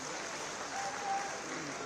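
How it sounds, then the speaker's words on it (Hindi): Applause from an audience welcoming guests at a thinkers' conference in Meerut district, a steady even wash of clapping held at moderate level for about two seconds with a faint tonal whistle partway through. "एक बार यार जोरदार तालियों से आपका स्वागत और आपका अभिनंदन"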